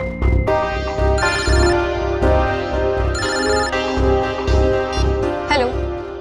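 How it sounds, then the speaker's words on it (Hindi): A telephone ringtone repeats in a regular pattern of bright electronic rings over a low musical backing, loud and close, during a call scene in a Hindi crime drama. "मैं अभी नम्रता को फोन करता हूँ।"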